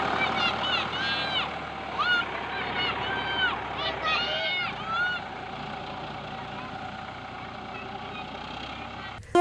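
A tractor engine runs with children riding on it in a Nepali village, a steady low rumble throughout, with loud chattering voices over it in the first half.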